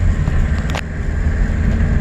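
Idling 1.9 TDI diesel engine of a 1996 VW Passat B4 with an overheating problem, revving but held near 900 RPM, giving a steady, loud low rumble with a faint passing whine.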